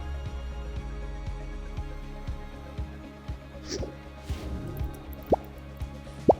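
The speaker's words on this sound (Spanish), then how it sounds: "Vamos a llenar esta botella de gas oxihidrógeno, que es el gas que expulsa nuestro electrolizador." Oxyhydrogen gas from an electrolyzer bubbles through a silicone tube into a water-filled bottle, giving a steady series of soft plops and drips with a few sharper gurgles near the end, quiet and close.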